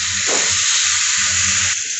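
Water poured into a pot of simmering soybean and potato curry on a home stove, a steady broadband rush with a low sizzling bubble underneath, close and continuous before cutting off near the end.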